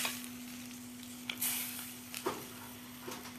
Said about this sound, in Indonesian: Nah, kita aduk hingga rata.